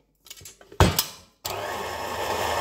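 After a few light clinks and a brief whir, an electric mixer starts blending gluten-free brownie batter, a loud continuous motor drone that holds steady to the end.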